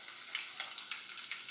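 Green chilies frying with mustard seeds in hot oil in a kadhai give off a steady, close sizzle with a few brief crackling pops, and no one speaks.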